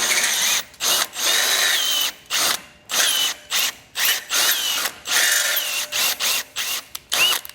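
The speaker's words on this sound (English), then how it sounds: "I'll take a bit like this or a drill bit." A power drill bit reams out bumper bracket holes on a 2021 Jeep Wrangler during a base plate install, loud close whining bursts of about half a second each, stopping and starting in a quick irregular rhythm without talk.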